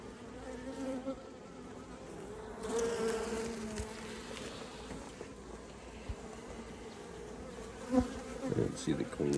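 Honeybees buzz in an open Langstroth beehive during an inspection: a dense, continuous close hum of many wings, with some rustling and a brief louder patch near the end.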